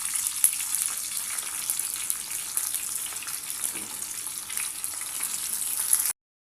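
Cut tomatoes and eggplant pieces fry in a pan for a village-style eggplant chutney, giving off a steady, close hiss and sizzle that continues evenly until it cuts off abruptly.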